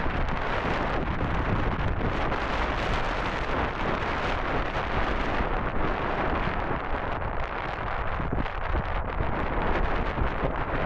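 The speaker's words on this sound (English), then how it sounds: "There is quite a strong wind." Strong wind roars across the Lancelin sand dunes near Perth, Australia, battering the microphone in a loud, continuous buffeting rush that never lets up, with no voices.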